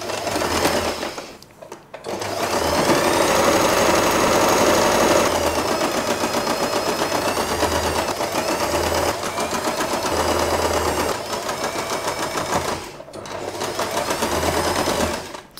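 A sewing machine stitches fabric for a wide scrunchie, running in a loud, fast continuous rattle for long stretches with two brief stops, close and without speech.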